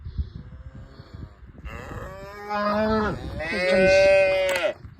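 A cow lowing at milking time on a farm, with a few long, loud moos in close succession rising over faint background noise.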